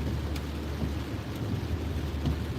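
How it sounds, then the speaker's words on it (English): Steady heavy rain pours down with a deep rumble of thunder rolling underneath throughout, dense and continuous. "Why did it have to rain today?"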